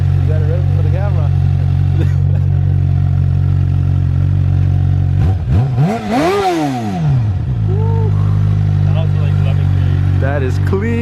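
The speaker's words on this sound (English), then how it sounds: "So you gotta rev it, man. You gotta rev it for the camera." A Suzuki GSX-R 600 on its stock exhaust idles loudly nearby, then is revved in one sharp rising-and-falling blip midway, with a smaller blip after, as people talk throughout.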